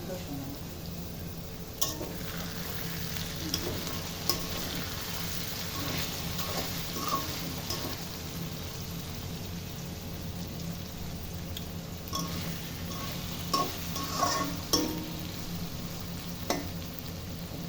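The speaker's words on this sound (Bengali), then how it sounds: "এবার একটু চুলার আঁচটা বাড়িয়ে ভাজা ভাজা করে নিলাম যেন সম্পূর্ণ পানি শুকিয়ে তেল বের হয়।" Pointed gourd and jackfruit seeds fry in oil in a pan over a raised flame: a soft, continuous sizzle broken by occasional clinks and scrapes of stirring.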